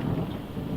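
Thunder rumbles low and continuous through heavy rain in Texas, with over three inches falling in a day under a flood warning; a steady wash of downpour sits under the deep rolling rumble, with no voices.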